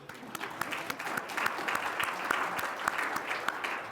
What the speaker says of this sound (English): Round of applause for you too.